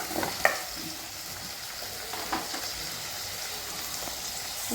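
Steady sizzling of tomatoes frying in a pan for drumstick gravy, with a few soft scrapes of stirring, close and continuous.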